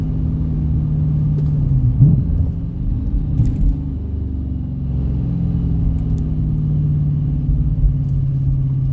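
A 2019 Dodge Challenger R/T with a 6-speed manual accelerates down a highway on-ramp, its engine a deep, steady rumble that swells briefly while the car pulls, heard from inside the cabin without talk.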